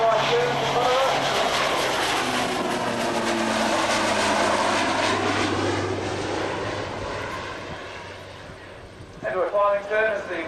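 An Air New Zealand Beech 1900D turboprop flies steep left-to-right turns at an airshow with undercarriage and flaps down, a loud sustained propeller drone with shifting pitch as it passes, while a commentator speaks over the public address.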